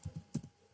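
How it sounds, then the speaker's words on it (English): A few quick keyboard keystrokes typed in a short burst, close and fairly quiet, with a pause before a final key press. "Now click on the search bar and type in"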